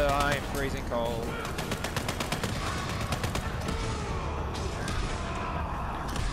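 Rapid automatic gunfire rattles almost nonstop through a Borderlands 3 firefight, dense bursts layered with other game effects and a voice talking over the shooting.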